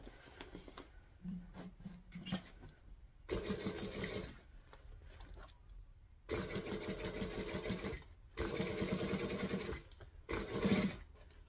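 Domestic sewing machine stitching straight through fabric piping, running in several bursts of steady whirring motor and rapid needle clatter separated by short pauses, loud and close with no talking.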